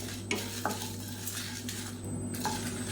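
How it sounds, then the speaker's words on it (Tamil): Dried red chillies and curry leaves are dry-roasted in a pan while being stirred, with soft crackling and sizzling and occasional light scrapes of a spoon against the pan, heard close and fairly quiet. "இது எல்லாத்தையும் வாசனை வர அளவுக்கு வறுத்துக்கலாம்"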